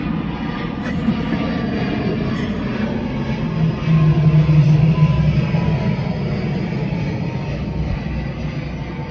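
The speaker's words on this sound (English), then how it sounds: "Now there's a plane coming." An airplane passes overhead on a hot August day in Fuerteventura, a steady low engine rumble that swells slightly near the middle and then fades gently, with no talking.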